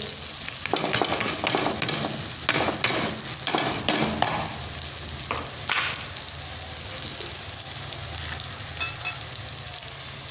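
Rice tipped into a hot frying pan while cooking for vada pav, giving a loud, steady sizzle with stirring scrapes and rattles that are busiest early on, then settle into constant frying.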